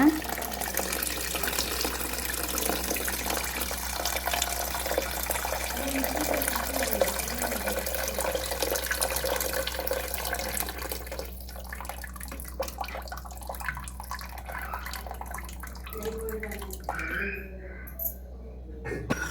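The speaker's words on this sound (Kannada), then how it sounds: "3 ಗ್ಲಾಸ್ ಅಕ್ಕಿಗೆ 5 ಗ್ಲಾಸ್ ನೀರು ಹಾಕ್ತೀನಿ" Water pours steadily into a pot for chicken biryani rice, a continuous splashing rush that runs for about eleven seconds, then thins to scattered drips and small splashes.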